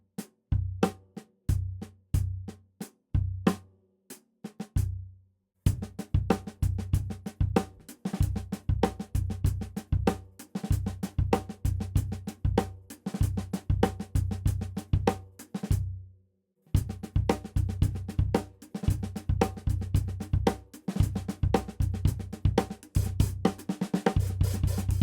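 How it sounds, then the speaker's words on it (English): Slow drum kit groove with soft snare ghost notes between accented snare hits and kick drum on every sixteenth note, played steadily for about twenty-five seconds with two brief pauses, close and without talking. "So I'm basically playing on every single 16th note between the snare and kick here."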